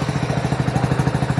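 A BS6 motorcycle engine, just started with the electric self-starter after a check-engine fault repair, idles with a steady rapid thumping pulse, close and fairly loud, with no talk over it.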